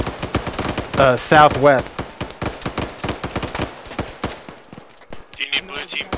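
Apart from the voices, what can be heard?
heavy gunfire in a video game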